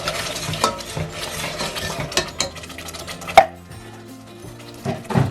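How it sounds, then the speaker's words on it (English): A manual can opener cranks open a can of chopped tomatoes, giving a run of close, irregular metallic clicks and ratcheting snaps with a sharp clank near the end. "gonna have to use the can opener now"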